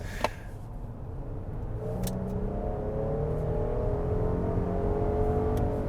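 A 2025 Lincoln Aviator accelerates in conserve mode, its engine note rising smoothly in a steady interior drone, moderately loud with no talk.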